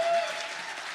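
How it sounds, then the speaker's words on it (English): Brief burst of audience applause for an award winner at a college business showcase, a dense wash of clapping heard only for a moment. "Let's have a wonderful round of applause for our business leadership winner"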